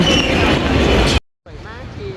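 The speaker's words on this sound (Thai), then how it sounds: "อันนี้คือเป็น รถแทรมนะคะ น่าจะวิ่งรอบเมืองนี้" A tram running through Amsterdam on a rainy day near the station, its loud rolling rumble cutting out briefly, then returning with faint wheel squeal.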